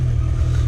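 A stock-exhaust Honda CRF100F 100cc dirt bike engine revs hard on an enduro hill climb, a loud, close, steady low rumble with no pauses.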